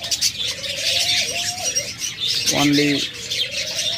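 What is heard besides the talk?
lutino lovebird pair chirping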